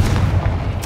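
Booming explosion of the Confringo fire spell in Hogwarts Legacy, a short loud blast with heavy low rumble and a sharp burst at the end.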